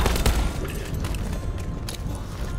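Door explosives detonate in Call of Duty Black Ops 4, a loud opening boom followed by a dense crackling fusillade of rapid pops that keeps going like fireworks throughout.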